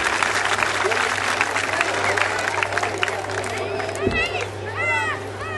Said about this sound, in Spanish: un aplauso también para ustedes.